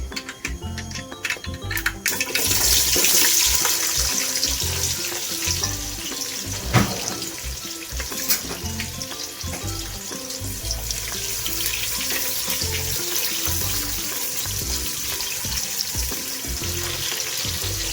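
Half a spoon of mustard seeds and onions fry in hot oil for avarekalu saaru, a steady close sizzle with crackling and a few stirring clatters throughout.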